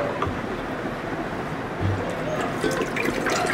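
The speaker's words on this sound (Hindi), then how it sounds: "उसमें हम इस तरह से पानी डाल देंगे," Water pours steadily into a cooking pot with a continuous splashing rush, close by, lasting the whole stretch.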